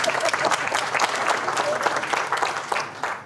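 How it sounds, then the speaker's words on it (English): Wedding guests at Sarah and Steven's reception clap for Sarah, a dense, continuous round of applause from a room full of people, loud and sustained, with some voices mixed in. "I would like if we could give Sarah a round of applause for all of our work."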